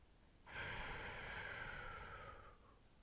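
A slow, steady exhale during a guided meditation, a soft airy breath that swells in, holds evenly for about two seconds and then fades out, close and alone with no talking.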